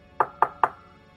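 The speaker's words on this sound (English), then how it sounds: "there was a knock on the door" Three evenly spaced knocks on a door in an audio drama at midnight, crisp and fairly close in a quiet room, with nothing else heard.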